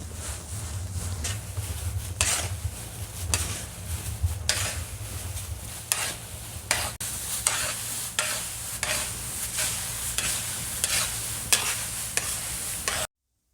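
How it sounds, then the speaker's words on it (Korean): Cudrania mulberry leaves are stirred and roasted in a 300-degree kiln, making a continuous dry rustling sizzle with rhythmic scraping sweeps every second or so, close and steady, with no talk. "이 300도씨 가마에서 이렇게 볶아야 된다는 게"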